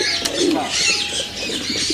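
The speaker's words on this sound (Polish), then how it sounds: "to są gołębie" Racing pigeons coo softly amid a busy background of bird chatter and rustling, a steady low murmur of calls throughout.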